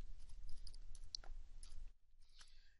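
A computer mouse clicks a few times in a quiet room while working in Dreamweaver, with light, close, crisp taps spread unevenly, one stronger click near the middle, and no talk.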